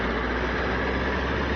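Motorcycle engine idling, a steady close low rumble with even texture throughout.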